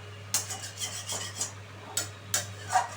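Chicken curry stirred in a pan with a utensil, producing several rhythmic scraping rasps roughly every half second over a faint steady hum, close and moderately quiet, with no voices.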